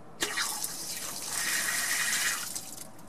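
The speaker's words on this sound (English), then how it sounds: "Now then, I'll turn the water back on." Water gushes from an outdoor hose bibb spigot after being turned back on, a steady loud rushing stream starting abruptly and tapering near the end, with no talk.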